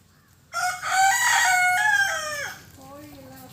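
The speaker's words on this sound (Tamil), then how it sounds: "கோழியெல்லாம் வச்சுருக்கோம்." A rooster crows one long, loud, close cock-a-doodle-doo on a garden farm with kept chickens, and the call trails off into softer clucking.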